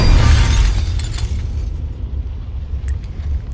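Stones fall onto a car in the Spiti Valley at Tabo and shatter the windshield. A loud, broadband crash and rumble is heaviest at the start, then fades into a lingering low roar with scattered faint clinks.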